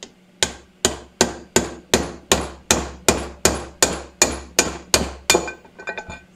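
A hammer strikes a large socket to drive a bearing out of a Triumph Trident T160 engine crankcase, giving about fourteen sharp metallic blows at a steady rhythm, close and loud, with the last few lighter and quicker.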